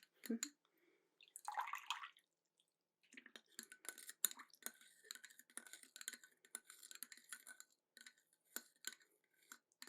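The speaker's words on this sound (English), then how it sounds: "Just place this right in the hot water. I love how it bubbles." Tea infuser placed in hot water, with faint close bubbling, drips and small clinks in a quiet setting, soft and intermittent; a soft voice speaks briefly at the start.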